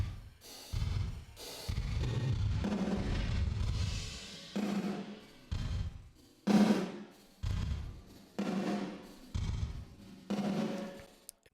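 Drum room microphones squashed hard by compression with the fastest attack and release, giving loud, pumping bursts of kit sound that swell and cut off in short phrases, separated by brief gaps.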